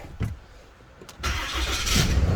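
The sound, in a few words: 5th gen Ram 3500 truck engine starting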